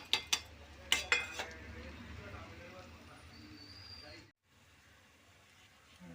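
Metal utensils clink and scrape in a pan while fried banana pieces are stirred with masala powder, a few sharp knocks early followed by softer scraping, faint room sound and a brief drop near the end.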